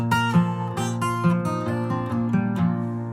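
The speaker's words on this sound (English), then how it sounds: "just that simple alternate bass, so it sounds like this" A guitar played in a simple alternating-bass picking pattern for a tune, steady plucked bass notes alternating under ringing treble strings, close and clear with no voice.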